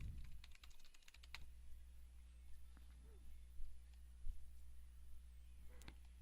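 Quick bursts of key clicks on a computer keyboard while a caption is typed, close and fairly quiet, with a short run of rapid keystrokes at the start and a few scattered taps later.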